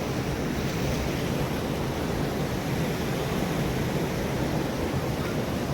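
Rising water of the Ib river rushes steadily past a bridge in Jashpur, Chhattisgarh, a loud, continuous broadband roar without breaks and no voices.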